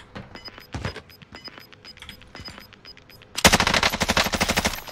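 SMG fire in Call of Duty Warzone: scattered clicks and short distant bursts give way to a loud, close sustained burst of automatic fire near the end.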